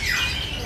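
Songbirds at a bird market kiosk, including black-breasted birds, squawking and scrapping with each other, a dense chorus of harsh chirps and calls filling the space close by with no talking.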